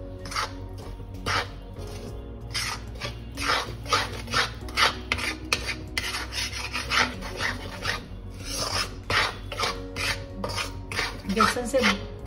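Besan being stirred and roasted in ghee in a pan, with a steady run of close scraping, rasping spoon strokes against the metal, repeated irregularly throughout, alone with no talk.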